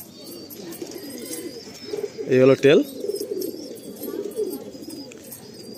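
A male pigeon coos in a short close burst while it is handled at a bird sale, and someone talks over it before and after.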